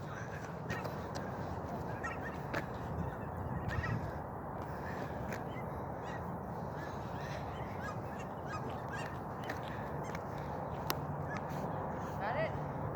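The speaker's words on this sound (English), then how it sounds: "I'm sure it's the Canadian goose" Canada geese honk repeatedly outdoors on a foggy morning, scattered calls from several birds over a constant background hum, with other birds cawing now and then.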